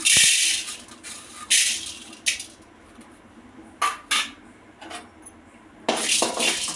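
Chana dal dry-roasts in a pan, a spoon stirring in short, bright bursts of scraping and rattling lentils, with quiet gaps between strokes.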